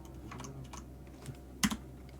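Someone types a spell name on a computer keyboard: a quiet run of scattered key clicks, then two sharper, louder taps close together near the end, with no voice.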